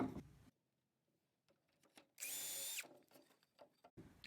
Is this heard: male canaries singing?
no